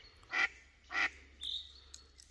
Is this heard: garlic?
no